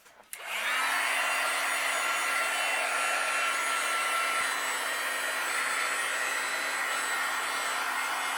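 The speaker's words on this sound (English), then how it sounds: "I'm going to use my heat gun and I'm going to melt this" A heat gun switches on with a click and then blows a steady, loud airy roar while melting embossing or crafting material for a handmade card, holding evenly close by with no talk.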